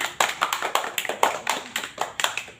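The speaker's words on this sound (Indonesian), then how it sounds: "Dari Linda, kita beri aplaus dulu." A classroom of children applauds a classmate, giving a short burst of brisk, fairly regular claps that swell and fade in quick waves, close and moderately loud with no talking.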